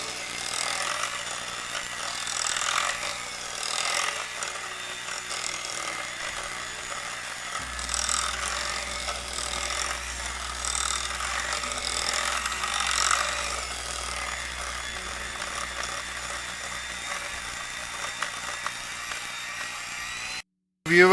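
An electric hand mixer beats orange muffin batter in a bowl, giving a steady, loud whirring drone with a rattling edge that holds for about twenty seconds, then cuts off near the end.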